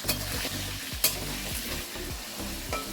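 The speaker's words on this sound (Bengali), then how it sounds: "আমি 1/2 চামচ নুন নিলাম, 1/2 চামচ হলুদ নিলাম, দিয়ে আমি আলুটাকে ভালো করে ভেজে নিচ্ছি" Potatoes fry in hot oil with salt and turmeric, giving a steady loud sizzle close up, broken by several rhythmic scraping strokes of a spatula stirring the pan.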